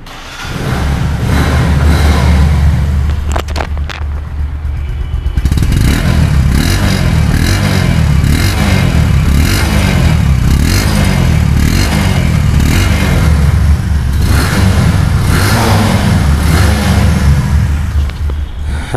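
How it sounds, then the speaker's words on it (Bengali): A Bajaj Discover 125 cc motorcycle engine starts and runs close by, settling into a steady loud idle with a throbbing low rumble and repeated revving swells throughout, no talk. "এখন গাড়িটি স্টার্ট করে শোনাবো।"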